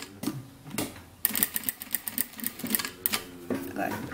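A sewing machine stitches bias binding along a fabric edge, its needle rattling in quick bursts that start and stop, with a voice speaking between and over the runs.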